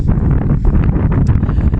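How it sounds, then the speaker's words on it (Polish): Strong wind buffeting the microphone, a steady low roar with gusty rumbles throughout and no other clear sound. "bardzo mocno wieje wiatr"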